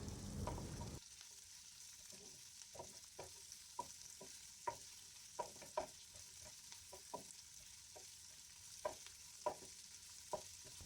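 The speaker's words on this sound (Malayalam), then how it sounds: "ഇനി നമുക്ക് കട്ട് ചെയ്ത വെളുത്തുള്ളിയും പച്ചമുളകും കറിവേപ്പിലയും കൂടെ ഒന്ന് ചേർത്ത് ചെറുതായിട്ടൊന്ന് വഴറ്റി കൊടുക്കാം" Garlic, green chilli and curry leaves stir-fried in oil for cabbage mezhukkupuratti: a quiet, steady sizzle broken by repeated sharp scrapes and taps of a spoon against the pan, with no voices.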